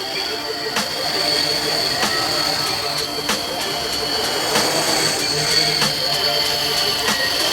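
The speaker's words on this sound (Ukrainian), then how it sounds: "Ну, апарат летить." A 13-inch drone flies with a steady high-pitched motor whine and buzzing propellers, moderately loud and continuous, with sharp periodic clicks or pops cutting through the drone.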